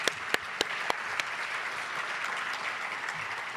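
A civic audience at a county address applauds: a few sharp, distinct claps open, then the sound thickens into sustained, even clapping from the room.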